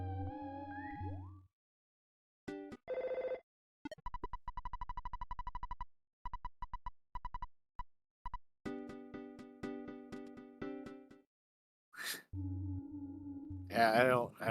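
A video game phone ringing in the Boogey% speedrun race, heard as a series of electronic synth tones and repeated beeping bursts with short gaps, loud and clean in the game audio.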